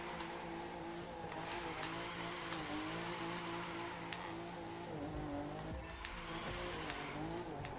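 A car drifts in The Crew 2 racing game, its engine droning steadily with a continuous tire squeal running through the whole stretch at an even, loud level.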